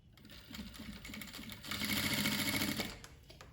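A sewing machine runs close by, stitching euro mesh flowers at a 5 mm stitch length, starting with a slower patter of stitches before speeding into a dense, steady whirring run that then stops.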